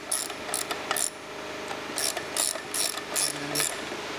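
A ratchet tightening a bolt during a lower-end rebuild clicks close up in quick bursts of sharp metallic pawl clicks, separated by short pauses, over a faint steady background hum.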